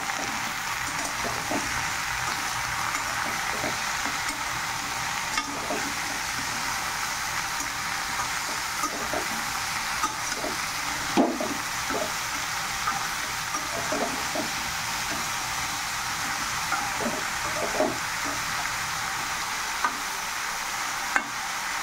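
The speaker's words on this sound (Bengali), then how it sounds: "এখন কিছুক্ষণ আবার কষিয়ে নেব।" Okra sautéing in a mustard and poppy seed paste with turmeric and salt, a steady close sizzle throughout with soft scraping and stirring strokes against the pan.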